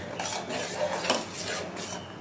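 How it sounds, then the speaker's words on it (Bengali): A spoon scrapes and clinks against a pan in repeated strokes as a milk mixture for vanilla ice cream is stirred to thicken, close and fairly soft, with a faint simmer beneath. "আমি এটাকে একভাবে ঘন করবার জন্য নেড়ে যাচ্ছি।"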